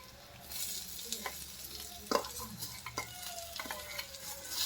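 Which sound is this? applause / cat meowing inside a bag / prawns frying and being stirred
prawns frying and being stirred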